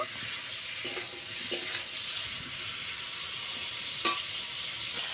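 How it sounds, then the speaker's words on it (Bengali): Snake gourd frying in oil with salt and turmeric, a steady close sizzle with a few soft stirring clinks and scrapes, no voices. "লবণ হলুদ দিয়ে চিচিঙ্গাটাকে ভালো করে ভেজে নেব।"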